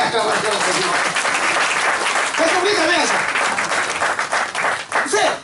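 Congregation applause and cheering in a tabernacle church service, loud sustained clapping mixed with crowd shouts and voices calling out over it, fading briefly near the end.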